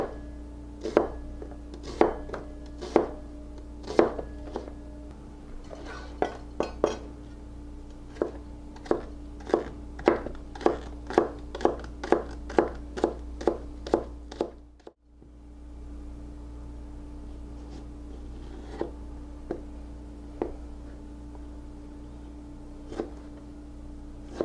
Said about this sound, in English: We will continue with these vegetables, getting everything sliced up just right.